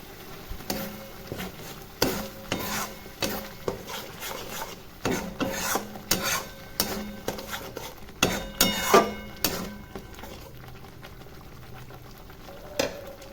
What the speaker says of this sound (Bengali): তো দেখুন মশলাটা ভাজা ভাজা হয়ে এসেছে।